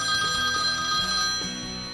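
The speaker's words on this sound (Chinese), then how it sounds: "台商朋友的手机响了" A mobile phone rings with a bright, repeating melodic ringtone of clear sustained tones, fairly close, over a soft low backing that slowly fades toward the end.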